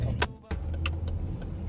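A police patrol car pulls off the road into a park, its low engine rumble steady beneath a few sharp clicks and rattles from inside the cabin.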